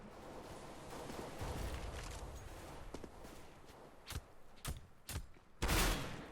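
Negev machine gun fire in CS:GO, arriving as a few separate loud bursts toward the end after a stretch of quieter background movement, each spray sharp and rapid.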